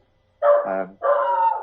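A dog barks twice close by, loud and sharp, with a short gap between barks against an otherwise quiet background.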